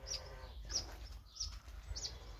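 Small birds chirp in short, high tweets, about four quick calls spaced apart, faint against a low background rumble.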